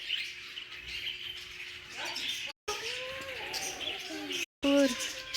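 Small birds chirp and call at a bird sanctuary, their short tweets and warbling phrases rising clearly in the second half over a steady background hiss, with brief dropouts in the sound.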